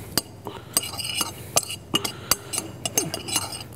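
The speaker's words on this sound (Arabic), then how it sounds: "رح نحط هلا السماق، ونخلطهم كلهم مع بعض" Sumac is stirred into chopped onions in a bowl for a Palestinian salad, the utensil scraping and clinking against the bowl in quick irregular strokes, close and clear with no talk.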